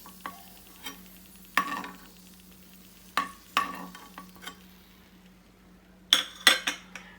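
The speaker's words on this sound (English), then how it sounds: "Now I'm just roasting the raisins" Raisins roasting in a pan with ghee are stirred with a metal utensil, giving quiet scattered scrapes and clinks over a faint sizzle, with a few sharper knocks near the end.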